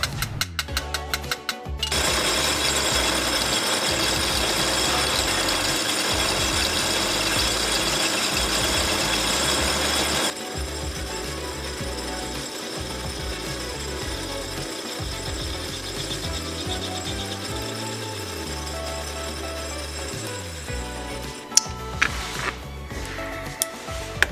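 A hand ratchet loosens bolts during a Ferrari 308 GTS rebuild. Rapid, close metallic clicking runs continuously, louder for the first ten seconds, then lighter and steadier, with a few sharp knocks near the end.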